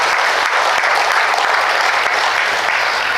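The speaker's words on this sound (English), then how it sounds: "Shall we give them a round of applause?" Steady, dense applause from a large audience fills a hall at an alumni awards ceremony, loud and sustained throughout without pause.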